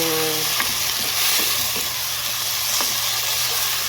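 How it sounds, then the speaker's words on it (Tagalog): Tomatoes sauté with garlic in a pan for chicken afritada, a steady close sizzle with a few scraping stirs and clicks breaking through the hiss. "Lutuin lang natin ang kamatis before we add chicken"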